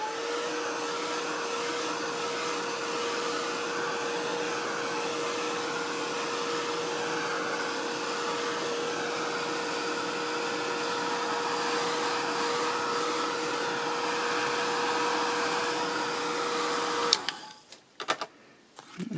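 A heat tool blows a steady, even whirring drone for about seventeen seconds to dry gesso on a craft background, then clicks off, leaving a few soft handling knocks.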